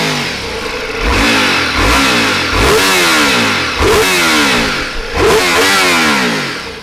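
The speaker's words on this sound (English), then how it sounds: "you do get a lot of induction sound in the cockpit" Ducati Multistrada V4 Rally V4 engine and induction roar, loud and close, rising through repeated revving pulls in several gears with quick dips between shifts, no talking.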